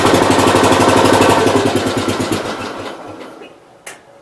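A 1967 Gravely 424 walk-behind tractor engine runs with a rapid rhythmic knocking clatter, loud and close, then slows and fades as it winds down, ending with a single sharp clunk.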